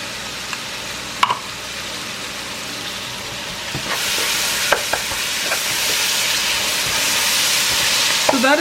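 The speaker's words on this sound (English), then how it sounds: "I'm just gonna start frying like that" Food frying in a pan for an amaranth leaves dinner, a steady sizzle that grows louder partway through, punctuated by occasional clicks and stirring knocks.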